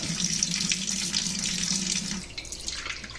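A freshly shucked oyster rinsed under a running kitchen tap, a steady close stream of water splashing over the shell, briefly changing tone toward the end, with no speech.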